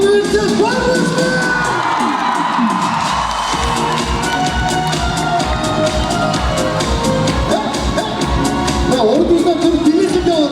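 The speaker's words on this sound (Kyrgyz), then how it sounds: "Шаттыраак кол чаап койсо турабыз." An audience in a university hall at a National University ceremony welcoming first-year students claps steadily and loudly, with cheering and whoops mixed in throughout.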